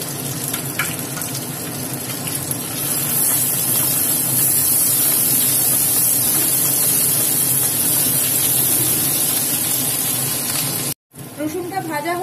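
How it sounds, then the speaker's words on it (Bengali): Crushed garlic cloves fry in hot oil with two cardamom pods and a cinnamon stick, giving a loud, steady sizzle for about eleven seconds before a brief cutout near the end. "রসুনটা ভাজা হয়ে গেছে"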